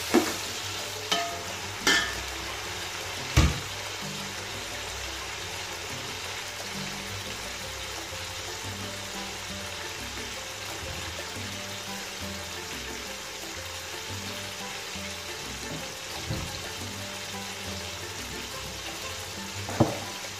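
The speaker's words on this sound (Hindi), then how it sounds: "ये हल्का हल्का फ्राई करेंगे, बहुत ज़्यादा फ्राई नहीं करने घी में।" Tomatoes and onions frying lightly in ghee in a pan, a steady soft sizzle throughout with a few sharp clinks of a spoon stirring near the start and end.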